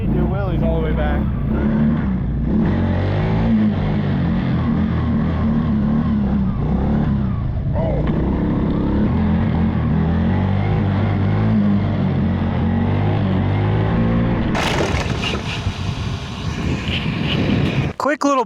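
Cummins diesel-powered Banshee quad doing wheelies across the salt flats, a loud steady engine drone with rising and falling revs and strong wind rush, ending in a burst of buffeting noise.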